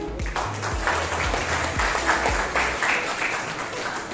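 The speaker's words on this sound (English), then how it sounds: "A round of applause, please." Applause from an audience at an achievement ceremony with a cycling theme, a steady patter of clapping that keeps going through the whole stretch with low thumps underneath.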